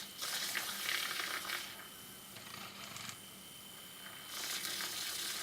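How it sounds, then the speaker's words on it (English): A small handheld frother whirring in a matcha green tea latte, a steady hissing buzz that runs in three bursts with short quieter gaps between them, close by and with no voices. "I go in there and I use my little frother and I stir it up"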